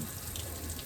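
Steady running water from a homemade dog shower, a continuous close hiss of flowing water with no talking.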